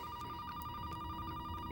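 A telephone rings faintly in a scene from an episode of the TV drama Angel, a steady electronic ring tone under a low background hum.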